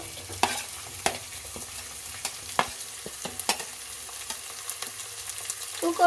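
Potato, carrot and cauliflower fry and get stirred in a pan for vegetable pulao, with a low steady sizzle broken by sharp spoon scrapes and clinks at irregular intervals, close and fairly quiet, no talking.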